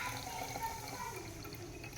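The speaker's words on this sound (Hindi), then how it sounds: "तो इसमें मैं जल मिलाती हूँ।" Ganga water is topped up with plain water poured into a large bottle, a faint, steady trickling flow with soft gurgles in a quiet room.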